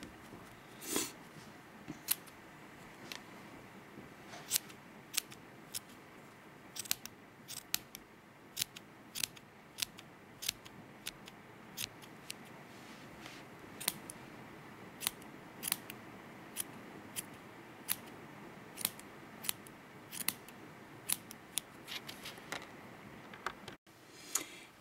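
Scissors snip the loose wool yarn strands of a pompom close to the knot, giving sharp, close cuts repeated at an irregular, fairly steady pace over a quiet background, with no talking.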